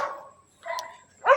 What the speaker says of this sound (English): these dogs are barking